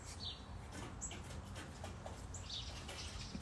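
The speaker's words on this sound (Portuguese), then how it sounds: "Os passarinhos estão fazendo uma festa aqui no meu telhado." Small birds chirp in short, high bursts scattered over a rooftop, faint against a steady low background hum, with no talking.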